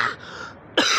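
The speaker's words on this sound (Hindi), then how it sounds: "क्योंकि मैंने खांसी लगी होती" A single person nearby coughs and clears their throat, with a rough burst, a short pause, then a second sharper hack, all close and fairly loud.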